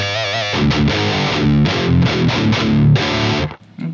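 An electric guitar plays through a Marshall JCM800 amp with heavy distortion. Dense chords and short riffs ring out loud and up close, with brief gaps before the final chord cuts off.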